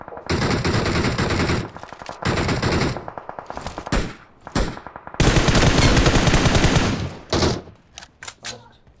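Gunfire in the video game PUBG, with long automatic bursts and rapid single shots, loud and dense, broken by short pauses and mixed with faint voices.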